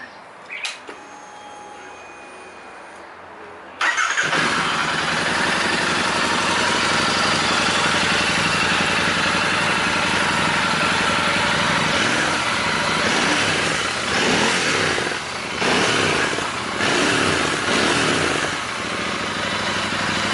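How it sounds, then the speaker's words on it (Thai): Royal Enfield Interceptor 650 motorcycle engine on its original air filter, starting up after a quiet moment and then idling loudly and steadily nearby with a rough, uneven throb. "เดี๋ยวให้ฟังเสียงเครื่องเดิม"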